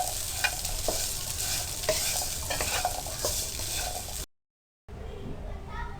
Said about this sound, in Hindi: इसको चंद सेकंड के लिए हमने फ्राई करना है